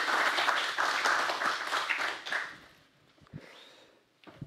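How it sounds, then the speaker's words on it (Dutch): A lecture-hall audience at an evening event about the 2023 Nobel Prizes gives a final round of applause that holds steady, then fades out, leaving only a few scattered claps and rustles. "Laatste ronde applaus en dan gaan we door met de volgende spreker."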